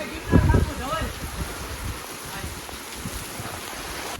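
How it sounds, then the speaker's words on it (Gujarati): Rain falls outdoors during a bathing outing, a steady broadband hiss and patter throughout, with voices briefly heard near the start. "ઉપર જતા વરસાદ આવી ગયો"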